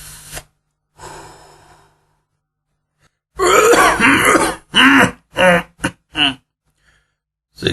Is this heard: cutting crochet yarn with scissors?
no